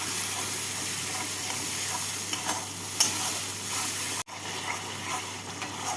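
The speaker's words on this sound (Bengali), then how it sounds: "এবার মশলাটাকে ভালো করে কষিয়ে নেব।" Spice paste being stir-fried in a pan for a vegetarian taro (gathi kochu) dalna gives a steady, close sizzle with soft scraping of the spoon, one brief dropout near the end, and no voices.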